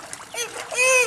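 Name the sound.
child jumping into pool water, splash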